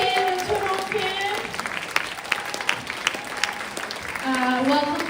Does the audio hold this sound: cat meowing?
no